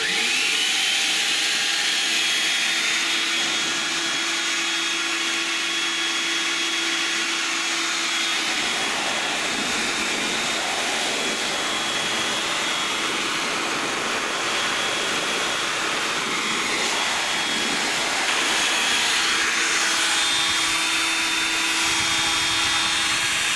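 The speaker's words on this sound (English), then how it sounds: "That's about as much voltage I can give this vacuum cleaner" A vacuum cleaner motor run on about 66 volts DC drives a turbocharger compressor, giving a loud, steady, high-pitched whine and rushing airflow that holds without a break throughout.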